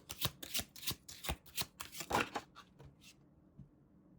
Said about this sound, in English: So I want to pull some more tarot cards.